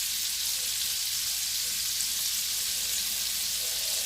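Minced garlic fries in a pan with Creole seasoning while cooking shrimp and grits, giving a steady, soft hiss of sizzling with faint crackles and no voices.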